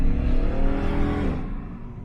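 A 1985 Pontiac Trans Am with the 155-horsepower LG4 305 V8 and four-barrel carburetor accelerates hard from inside the cabin, a loud steady engine roar climbing in pitch, then easing off near the end as a shift or lift.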